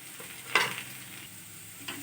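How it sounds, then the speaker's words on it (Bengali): Radish greens cooked with boiled red lentils and their water are stirred in a pan, with a soft simmering bubble and two distinct spoon scrapes against the vessel, close and unaccompanied by speech. "মুসুর ডাল জল সমেত দিয়ে একটু নেড়ে চেড়ে সাথে অ্যাড করে দিচ্ছি"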